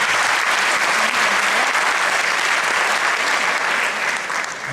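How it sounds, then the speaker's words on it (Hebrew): An audience claps steadily and loudly for a dance troupe leader at a folk dance performance, sustained dense applause that tapers slightly toward the end. "מגיע לך מאוד כפיים"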